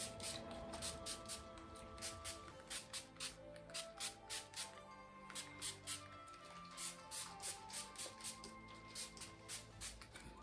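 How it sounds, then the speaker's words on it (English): Tresemmé heat protection spray is misted onto hair in a quick series of short, regular spritzes, faint and close, over soft background music. "I'm going to start off by spraying it all with a heat protection"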